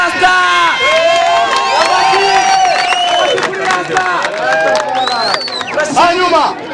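A crowd at a youth event cheers and applauds for Rasta, loud and close, with shouts, whoops and excited voices over clapping throughout.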